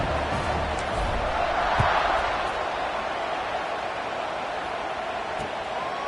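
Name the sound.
football stadium crowd at kickoff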